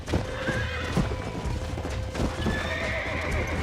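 A horse in the Red Dead Redemption video game neighs and whinnies over a steady clip-clop of hoofbeats, loud and close, with other game sounds in the background.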